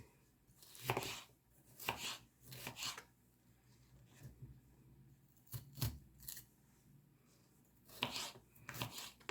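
A knife cuts vegetables on a board for a green chicken curry, with clusters of quick, quiet rasping chops separated by short pauses, close and faint with no voice.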